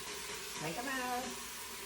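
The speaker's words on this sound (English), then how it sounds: "let that saute for just maybe another minute" Beef stew with tomatoes and cilantro sautéing in a pot gives a soft, steady sizzle and steam hiss that runs throughout, with a brief clatter of stirring midway.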